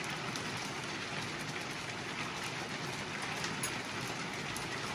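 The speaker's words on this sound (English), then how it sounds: "Hail's coming in the hole." Hail falling outside an off-grid bunkie cabin: a steady, dense patter of hard pellets that holds at an even level throughout, with no voices.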